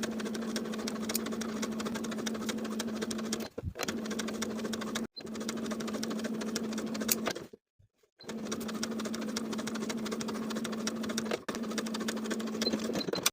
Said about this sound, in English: Sew straight across the top edge from one outer edge to the other with a 3/8 inch seam allowance.